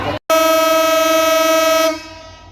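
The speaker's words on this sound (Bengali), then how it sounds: "ঢাকাগামী 758 ডাউন দ্রুতযান এক্সপ্রেস এই মুহূর্তে আক্কিলপুর রেল স্টেশনে 1 নম্বর লাইন দিয়ে ছেড়ে যাচ্ছে" A loud, close, sustained horn blast from the Drutojan Express diesel locomotive departing Akkelpur railway station in Bangladesh, a steady tone lasting nearly two seconds before it cuts off, leaving a fading rumble.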